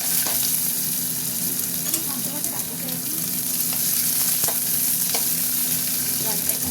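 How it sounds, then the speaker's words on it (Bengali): Onion dropped into hot oil seasoned with panch phoron sizzles steadily in the pan, a constant close frying hiss broken by occasional scrapes and clicks of stirring. "এবার আমি পেঁয়াজটা দিয়ে দেবো"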